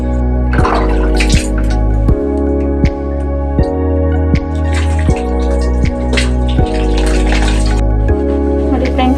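Lukewarm water splashes and trickles steadily over hair during a shampoo wash, a continuous close watery patter with drips, while a voice talks throughout.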